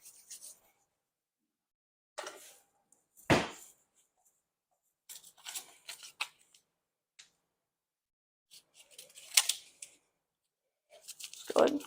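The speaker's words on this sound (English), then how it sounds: "So I got to go get some scissors to cut it." Scissors snip through a yeast packet during home bread making, giving a few short, crisp, close cutting and rustling bursts separated by quiet gaps.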